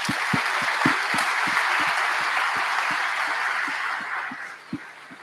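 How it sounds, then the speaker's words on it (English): Live audience at a crypto conference livestream clapping in sustained, dense applause with scattered sharper claps, holding steady before thinning out toward the end. "So please, give yourselves a round of applause."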